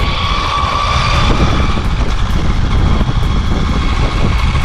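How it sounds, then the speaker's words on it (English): An EcoMobil ET Pro electric skateboard's planetary gear drive motor, with a 4.6 to 1 gear ratio, gives off a loud, steady, close-up whining roar that holds without a break throughout. "Personally, I love loud motors, and this board delivers a sound that's distinctively EcoMobil."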